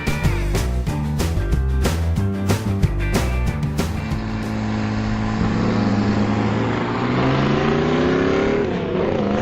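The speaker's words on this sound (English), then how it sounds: "why are we standing on an airport runway with cars racing behind me?" Drag racing cars roar down an airport runway at Zelienople Airport in Western Pennsylvania, a loud close engine blare with rapid pulsing revs that settles into a sustained high whine as a car speeds away.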